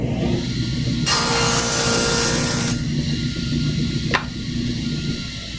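A table saw rips a short cut through wood for a blade thickness test: a motor hum rises into a harsh, bright cutting rasp for under two seconds, then drops back to the running hum, with a single sharp knock shortly after.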